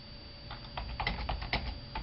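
Typing on a computer keyboard, a quick uneven run of light key clicks close by over a faint steady hum, with no talking.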